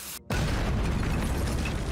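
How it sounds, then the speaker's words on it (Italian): A cartoon explosion from dwarves digging underground, a sudden loud burst after a brief gap, followed by a sustained dense rumbling roar of rubble. "Questo perché causano davvero delle esplosioni sottoterra!"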